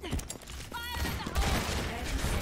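Rapid gunfire in the video game Overwatch as shots are fired at dynamite, a dense continuous burst of cracking shots with a speaking voice underneath.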